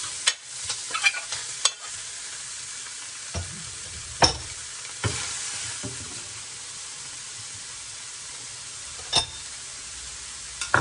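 Chicken pieces and string beans fry in a Saladmaster electric skillet for a ginisang dish, giving a soft steady sizzle broken by several sharp clacks and scrapes of a utensil stirring against the pan.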